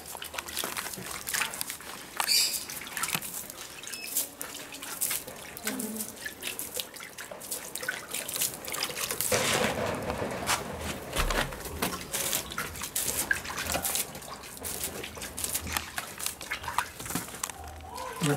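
Water is poured over a broom to soak it, a loose splashing and trickling rush that swells in the middle and continues steadily, fairly close, with no talk over it.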